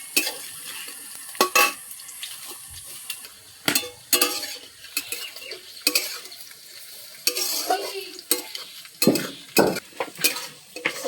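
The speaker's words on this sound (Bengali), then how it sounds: "একটু লাল লাল হবে পেঁয়াজ আর কাঁচা লঙ্কাটা ভাজা" Onion and green chillies frying in a pan for chicken kosha, a steady close sizzle broken by repeated loud scrapes and clinks of a spatula stirring against the metal.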